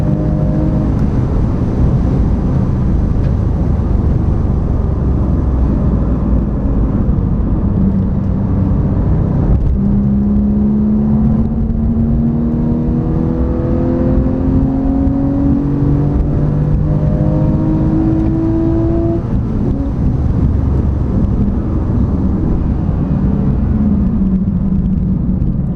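Car engine revving hard in third gear, loud and close throughout, with rising and falling engine pitch as the throttle is worked and a steady rumble of road and wind underneath.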